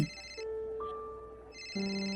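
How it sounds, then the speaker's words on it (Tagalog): A cellphone rings in a pocket, a clear electronic ringtone of sustained tones that stops and restarts, alone with no talk. "Nagre-ring ang cellphone mo sa bulsa mo. Naririnig ko."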